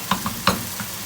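Onion and chana dal frying in a pan while being stirred, a soft continuous sizzle with a few distinct scraping strokes from the spoon, close and fairly loud, without any voices.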